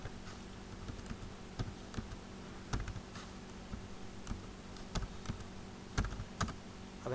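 Someone types quietly on a computer keyboard in an office setting, with soft, irregular keystrokes and a few firmer taps like the Enter key, all over a low steady hum.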